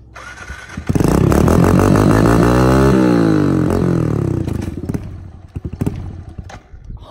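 A motorcycle engine fires up after the choke is pulled, a loud close roar that climbs and falls through a sustained rev, then settles into a rough, clattering idle with uneven bursts.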